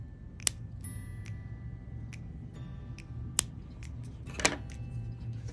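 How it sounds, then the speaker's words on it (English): Scissors snip through crochet yarn in a few sharp, close, isolated clicks over a quiet background. "then cut the extra yarn"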